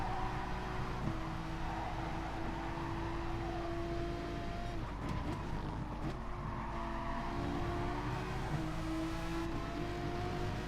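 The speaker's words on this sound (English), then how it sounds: "You can hear that back end sound of the VGT, that buzz of the VW engine." A Volkswagen Vision GT race car engine in GT Sport buzzes and whines steadily, with several cars droning close together and pitch shifting as they jostle; no talking.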